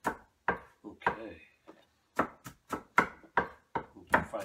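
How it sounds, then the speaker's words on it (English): A knife finely chops vegetables for pico de gallo on a wooden board, with a quick run of crisp, distinct taps and short pauses between bursts, close and clear. "Fine chop."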